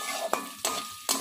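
Potatoes being turned in a pan with salt and turmeric: three quick scraping stirs of a utensil against the pan over a soft sizzle, close and quiet.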